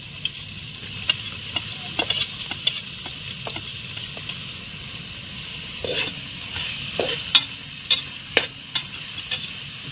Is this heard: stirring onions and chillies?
yes